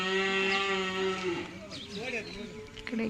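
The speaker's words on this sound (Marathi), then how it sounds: "आणि इथे वासरं आहेत 2," Calves on a small village farm give a long, low moo that holds for over a second, followed by softer, broken lowing and rustling nearby.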